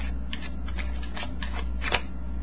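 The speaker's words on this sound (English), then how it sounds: "Let me give one more shuffle." A deck of playing cards is shuffled up close, giving a run of quick papery riffle bursts over about two seconds, with no talking.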